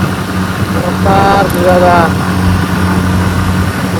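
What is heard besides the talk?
motorbike engine running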